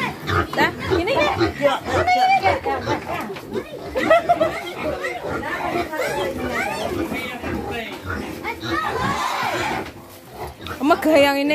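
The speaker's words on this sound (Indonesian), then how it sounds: "ini saya tangkap satu ekor babi" A pig caught by hand on a family farm squeals in loud bursts, mixed with lively chatter and voices of people nearby throughout.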